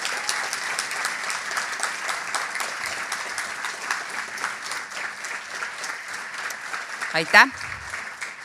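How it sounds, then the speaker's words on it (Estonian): Applause in an assembly hall for former class teachers at a ninth-grade graduation day ceremony, steady clapping from the crowd lasting several seconds, with a voice speaking briefly near the end. "Ma palun teil teha neil aplaus"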